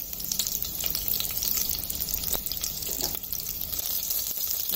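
Curry leaves and slit green chillies sizzle in hot oil in a pan, making a steady, close frying crackle with scattered pops throughout.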